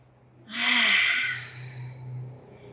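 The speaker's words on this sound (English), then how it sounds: "Exhale by the nose" One long, deep exhale through the nose during an aerial yoga class, a soft breathy rush that swells and fades, close and quiet with a faint low hum beneath.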